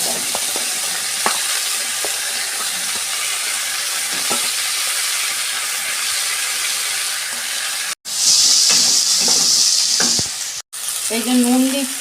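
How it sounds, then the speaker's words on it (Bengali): Vegetables fry in oil in a wok for a Bengali Malabar spinach and small prawn dish, giving a loud, continuous sizzle with a few stirring knocks and a sharper, hissing burst partway through. "আমি সবজিগুলো ভাজবো।"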